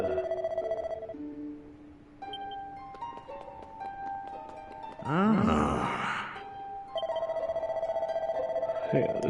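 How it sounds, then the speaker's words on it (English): Short electronic phone message chimes ring out from a handset over synth game music from Dragon Quest VII Reimagined, arriving as a few bright tones that pause around a noisy burst in the middle of the stretch. "I'm getting messages on my phone."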